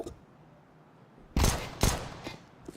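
P250 pistol fire in a Counter-Strike tournament match: two sharp, loud shots about half a second apart, then a fainter pop, following a quiet stretch.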